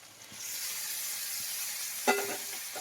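Spiced lote fish (Bombay duck) goes into a pan with softened onion and potato, starting a close, steady frying sizzle, with a sharp utensil clink partway through.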